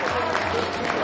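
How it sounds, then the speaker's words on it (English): Applause and crowd noise from spectators at a beetleweight robot combat event, a dense steady wash of clapping filling the whole moment at fairly loud level with a faint broadband hum beneath. "A round of applause, please"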